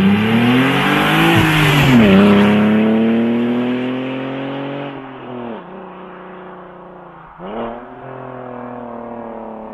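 An HRC Hurricane Z4 sports car engine revs hard up and down through several gear changes, a loud close roar with rising and falling pitch sweeps that eases off toward the end.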